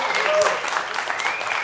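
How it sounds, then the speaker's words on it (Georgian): Studio audience applause during a Georgian comedy game show, a brief burst of clapping from the crowd mixed with talk over it. "ამას აპლოდისმენტები,"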